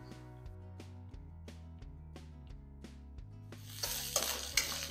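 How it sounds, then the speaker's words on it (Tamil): Garlic is sautéed in a pan for roadside kalan. Stepping background music plays throughout, and a crackling sizzle swells up close over the last second or so. "இப்போ இந்த பூண்டை போட்டு ஒரு 1 நிமிஷத்துக்கு வதக்குறோன்னு வைங்க."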